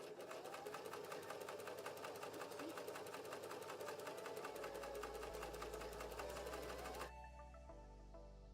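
A sewing machine stitches a scarf seam in one continuous, even run of rapid needle clatter, fairly quiet and close, before cutting off near the end.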